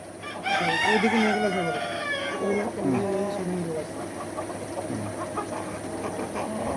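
A nearby rooster crows loudly, followed by softer clucking and quieter calls.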